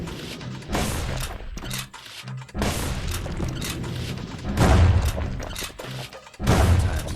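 Rifle fire in the action game Bastion: several heavy booming shots spaced irregularly among clattering impacts, with louder, deeper blasts near the end, mixed with game music and no talk.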